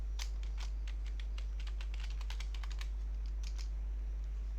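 A password typed on a computer keyboard, a quick run of soft, close key clicks in an uneven rhythm over a steady low hum.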